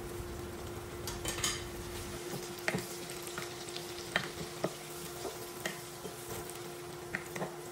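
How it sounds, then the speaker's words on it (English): Butter melts and sizzles in a pan with browned garlic, a steady low frying hiss with occasional soft scrapes of stirring and clinks of a utensil against the pan, with no talking. "Now our garlic is getting brown, so let's add the butter."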